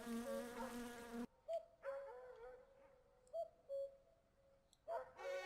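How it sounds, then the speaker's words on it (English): A housefly buzzes in the background of the My Summer Car video game, a steady droning hum that fades in and out in short bursts, with a louder buzzing passage at the start and again at the end. "especially that fly that's always in the background"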